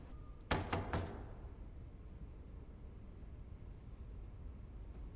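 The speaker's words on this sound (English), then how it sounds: "That was kind of a hard knock." A hard knock on a door in a TV drama: three quick, sharp raps close together, followed by a steady low rumble of room noise and no talk.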